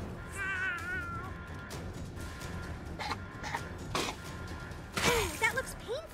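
Cats meowing in the South Park: The Fractured But Whole video game, a few wavering mewls early and late over busy game noise, crashes and background chatter.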